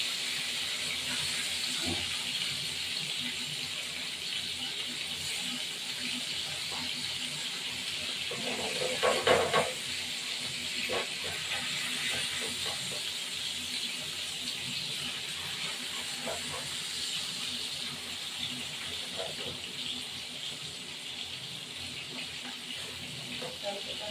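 A bhetki fish frying in a pan and being flipped gives a soft, steady hiss throughout, with a brief clatter of handling partway through and no clear talk.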